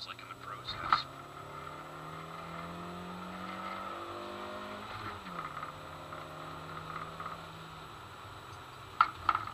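A Honda CR-Z with 122 horsepower accelerates, its engine note climbing repeatedly as it pulls through the gears, quiet and somewhat distant, with a couple of brief louder knocks.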